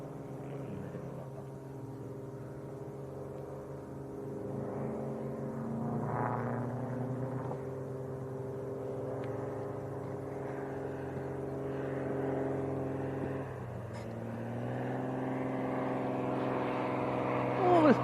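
Small Cirrus light aircraft inbound from Denham approaching Leeds Bradford Airport, a steady droning engine hum that shifts in pitch as it nears, moderately faint and continuous under occasional talk.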